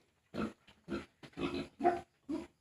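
A pregnant sow about 100 days along grunts in a series of six short, close, fairly loud bursts separated by brief pauses, with no one talking.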